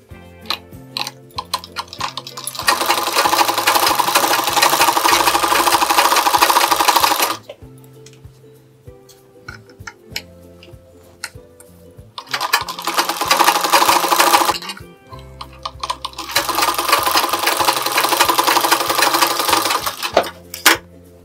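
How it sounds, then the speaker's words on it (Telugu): A sewing machine stitching the lining of a blouse runs in two long loud bursts of rapid mechanical whirring, with a quieter pause between them filled by small clicks and handling noises. "ఈ చివరన లైనింగ్ మీద పడేటట్టు మనం ఒక చివరన ఒక స్టిచ్ వేసుకోవాలి."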